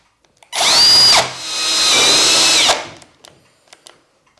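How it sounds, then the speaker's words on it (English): Big cordless Ryobi drill running in two loud bursts, a short high whine followed by a longer steady drilling run with a slight pitch shift, then stopping into near silence with faint clicks. "it's a big drill."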